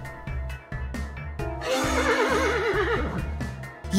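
A horse neighs in the Yuppie Psycho video game, a long wavering whinny that rises and trembles over a steady rhythmic music-like backing.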